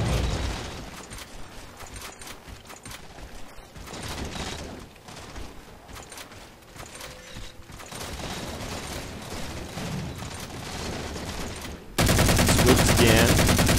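Halo 4 Team Slayer multiplayer gunfire crackles in quick bursts and rapid automatic volleys with mechanical clicks, fairly close and continuous, ending in a sudden loud, dense blast of noise.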